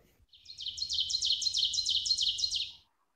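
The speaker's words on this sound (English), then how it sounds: "Oven bird. Teacher, teacher," An ovenbird sings its ringing song, a rising series of about a dozen sharp, repeated two-note phrases that swell in loudness, heard clearly against a quiet low background.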